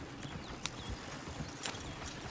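Horse hooves clip-clop at a steady walking pace, fairly close and moderately loud, with a faint whinny-like note in the background and no talk.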